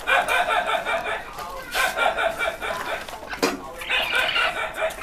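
Chickens cluck and crow in rapid, overlapping bursts close by, a busy farmyard flock being rounded up for sale, with a short pause near the middle before the squawking resumes.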